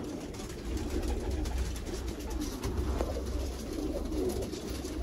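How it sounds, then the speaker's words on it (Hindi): Rooftop pigeons coo softly at a loft in Sialkot, low throaty calls repeating under a steady background hum. "उनके छत वाले कबूतर का शौक कर रहे हैं आप"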